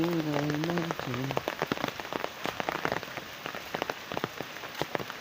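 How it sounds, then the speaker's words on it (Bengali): Rain patters steadily on surfaces nearby, with scattered sharper drops standing out, and a voice speaks briefly over it at the start. "বৃষ্টি"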